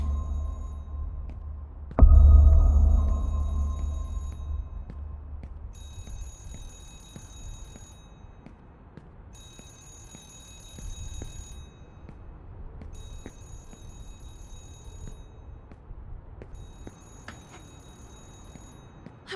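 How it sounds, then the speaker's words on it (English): A telephone rings behind a locked office door in the horror game Remothered: Broken Porcelain, in repeated bright ring bursts that sound somewhat muffled and distant, over low ambient rumble after a heavy thud near the start. "A telephone! It's coming from Ashman's office."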